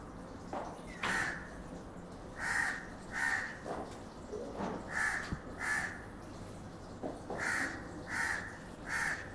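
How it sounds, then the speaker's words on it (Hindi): Nearby crow giving harsh caws in short clustered bursts, roughly a dozen calls with brief pauses between groups, over quiet ambient noise. "कौवा कौवा बोल रहा है,"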